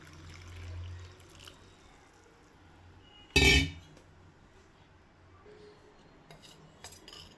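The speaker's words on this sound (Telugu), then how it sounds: "పౌడర్ వేసిన తర్వాత ఇలా బాగా మిక్స్ చేసుకోవాలి." A single short burst of metal clinking against a vessel, a spoon scraping and tapping as jeera powder is mixed into lukewarm water, then quiet with faint taps afterward.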